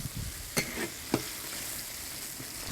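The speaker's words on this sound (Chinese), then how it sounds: "把这个脑壳丢到里头，给它煎一下哈。" Fish head and bones fry in a pan with hotpot seasoning, giving a soft, quiet sizzle with a few brief crackles and stirring sounds, with no voices.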